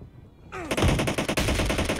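Rapid automatic gunfire from the battle royale video game PUBG erupts after a brief quiet start, with bursts of shots loud and close, continuing densely for over a second.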